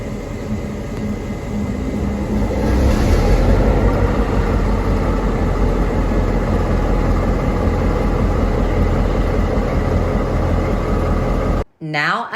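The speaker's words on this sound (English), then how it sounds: "the driver starts up the 2 p.m." Kuranda Scenic Railway train starting up for its 2 p.m. run from Kuranda to Cairns, a steady loud engine rumble and drone holding for about twelve seconds before cutting off abruptly.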